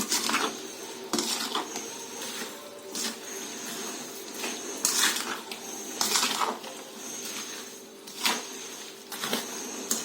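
Raw amla pickle being mixed in a bowl with a spoon, giving repeated clinks and scrapes of utensil on the bowl in an uneven rhythm, close and moderately loud, with no talking.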